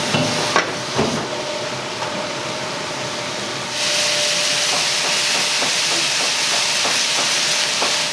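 Seasoned rice stir-fries in the kitchen of a Fukuoka udon and soba shop, a steady sizzling hiss with light clinks that swells louder partway through.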